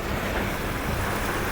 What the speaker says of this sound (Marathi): धुवाधार पाऊस मावळ तालुक्यात सर्वत्र